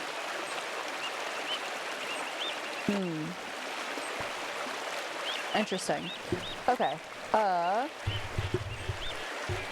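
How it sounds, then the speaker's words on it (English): Waterfall ambience in the video game Pentiment rushes as a steady broadband wash throughout, while someone talks briefly over it. "just leave you with these beautiful waterfall sounds"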